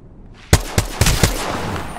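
Apex Legends gunfire rings out as four sharp, loud shots in quick rhythmic succession, each with a booming tail, following a moment of near silence.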